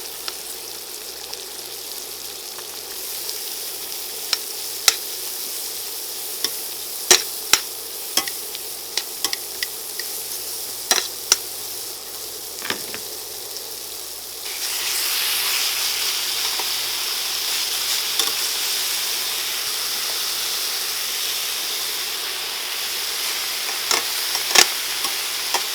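Top round steak sizzling in a pan with onions and mushrooms, a steady frying hiss with scattered pops and crackles that swells louder partway through, with no voices.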